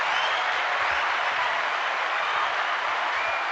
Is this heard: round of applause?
yes